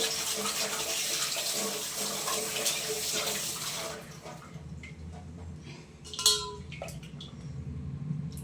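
Water splashes and pours steadily over aloe vera pieces being rinsed, then stops, leaving scattered drips and small clinks of handling nearby.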